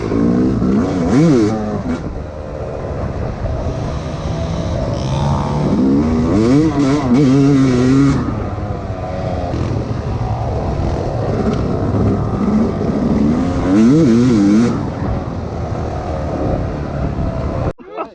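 A dirt bike on a muddy forest trail in the Akatarawa hills near Karapoti, its engine revving up and down in repeated rising sweeps, close by and loud throughout.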